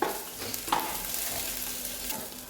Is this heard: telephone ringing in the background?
no